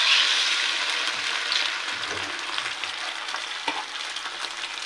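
Garlic and onion fry in a pan, giving a steady, close sizzle with light stirring scrapes throughout, starting strongest and easing slightly, with no talking.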